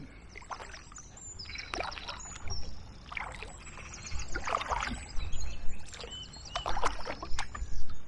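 A canoe paddled upstream on the river Medway near a lock, paddle strokes splashing and dripping in a loose rhythm, close and growing louder toward the end, with faint birdsong outdoors.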